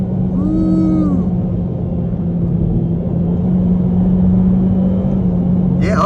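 2023 Honda Civic Sport Hatchback engine with Honda VTEC pulling hard up top, a steady, loud cabin drone under road rumble that holds constant throughout, with a brief higher whine near the start.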